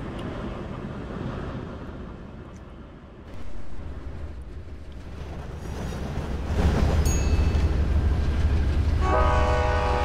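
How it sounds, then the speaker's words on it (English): A freight train in the Rails Unlimited Classic railway game rumbles on loudly and steadily, its low rolling drone swelling partway through, with a sustained horn blast near the end. "There's a um, freight train that stopped at, uh, at the station."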